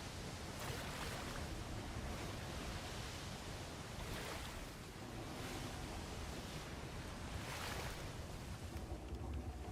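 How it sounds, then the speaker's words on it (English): A ship rolling through ocean waves in the pirate game Windrose, heard as a steady, loud wash of surf and wind with slow swells building and breaking every couple of seconds, no voices. "It does get tossed around in the waves a wee bit."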